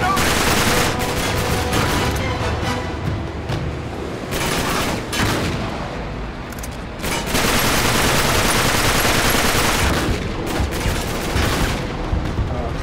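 Sustained heavy gunfire in the video game Uncharted 3 during a shipyard fight, loud dense bursts of automatic shots and impacts with brief pauses, close and continuous throughout.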